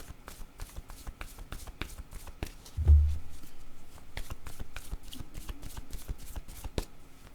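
A deck of word cards is shuffled by hand in a series of quick, crisp riffles and flicks, close and fairly quiet, with a soft thump partway through and no talking.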